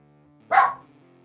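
A dog barks once, a single sharp close bark that rises out of a quiet room with a faint low hum in the background.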